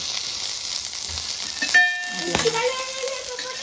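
Sesame seeds frying in a pan with chukkakura (sorrel leaves) and green chillies, a steady close sizzle with a brief clatter of stirring midway and some low background voices.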